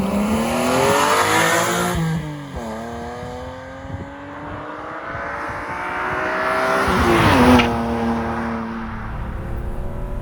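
A used BMW M3 GT accelerates hard with its engine revving up through the range. The rising note carries strongly near 5,500 RPM, breaks at each shift and then climbs again, loud and continuous.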